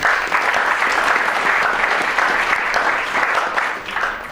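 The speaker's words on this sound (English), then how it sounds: "Again, a round of applause" Steady, full audience applause for a student nominee being introduced at a recognition event, continuous dense clapping throughout, loud and close.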